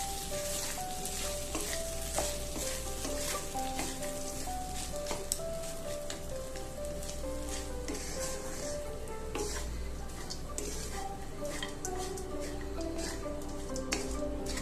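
Mint rice stirred in a pan on the stove, a steady close frying sizzle with soft scraping strokes running throughout, with tonal background music playing underneath.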